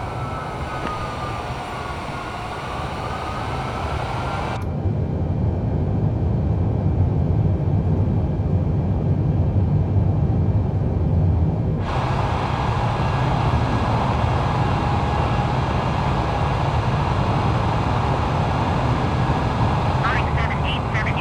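A Boeing 787 Dreamliner departs Los Angeles airport with a continuous broad jet roar that briefly thins before returning, while radio voices talk over it.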